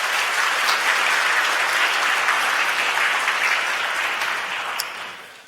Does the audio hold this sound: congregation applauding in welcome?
yes